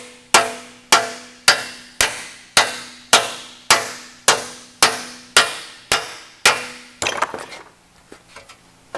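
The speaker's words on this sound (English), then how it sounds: "We can use this hammer here." A hammer strikes a metal panel being shaped for a Porsche 550 dashboard, landing about a dozen sharp, ringing blows in a steady rhythm at close range before a softer clatter of handling at the end.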